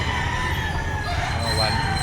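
Chickens and roosters at a poultry market in Batangas, with crowing and clucking mixed into a busy, noisy background as people talk nearby.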